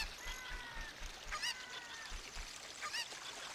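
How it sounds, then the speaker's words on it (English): Chicken clucking in the video game Ocarina of Time, short repeated squawks over a soft game background, fairly quiet and without talking. "Come here, chicken."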